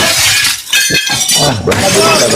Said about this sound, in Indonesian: Habis piring kau pecahin.